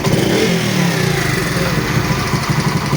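A motorcycle engine, just repaired after a starting and misfiring problem caused by water, runs loud and close with throttle held open, a steady throbbing roar with slight pulsing and no talk over it.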